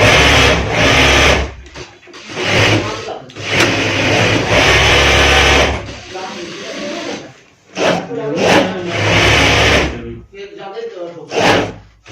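A sewing machine stitches fabric for a ladies' frock in loud, close bursts of rapid mechanical whirring with short pauses, while someone speaks Hindi in between.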